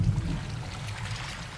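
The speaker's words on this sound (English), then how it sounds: "it sounds like we're walking in knee-deep water already" Wading through knee-deep floodwater inside a flooded mall in a video game, a steady low sloshing and churning of water that runs continuously and fairly loud, with no voices over it.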